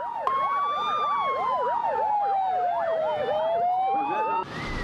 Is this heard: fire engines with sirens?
yes